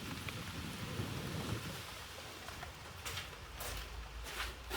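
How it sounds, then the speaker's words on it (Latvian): Steady rain falls outside a garage under rebuild, a continuous hissing wash of drops with no breaks, fairly faint and unaccompanied by speech. "Nopietni, atkal lietus."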